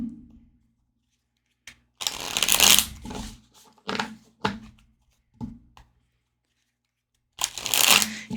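A deck of playing cards being shuffled close up: several short bursts of riffling and snapping, separated by quiet pauses, with no voices.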